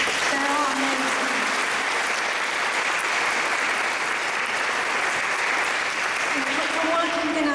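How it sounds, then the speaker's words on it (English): Steady, dense applause from a large crowd at a domestic abuse conference, loud and sustained throughout, with faint voices briefly audible at the start and end. "just give another round of applause for all of our White Ribbon ambassadors"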